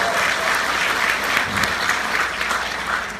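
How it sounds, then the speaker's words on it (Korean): A lecture audience breaks into applause, a dense, steady wash of many hands clapping that fills the whole stretch at an even level with no voices on top. "이거 박수 칠만 한 거예요, 이거."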